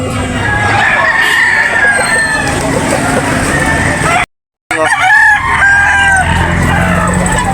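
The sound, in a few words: rooster crowing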